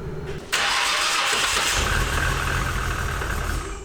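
A Nissan R32 GTR engine cranks briefly and then fires up abruptly, settling into a loud, rough, close idle with no talking.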